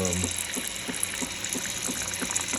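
A Jura J5 coffee machine, freshly serviced, pumps water from its container with a steady gushing flow and a rhythmic pulsing of the pump beneath, close and continuous.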